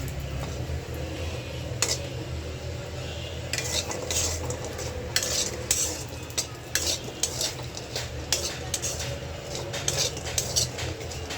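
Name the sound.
frying lentil dal badi (dried lentil dumplings)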